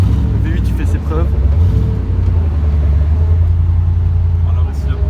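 V8 engine of a moving car, a deep steady rumble with low droning tone heard from inside as it drives along, loud and constant, with people talking over it.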